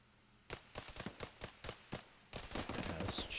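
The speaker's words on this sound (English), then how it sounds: "we'll kill that PK that's shooting at you" PK machine gun in a video game firing short rapid bursts, a string of sharp cracks followed by a denser sustained burst, moderately near, no talking.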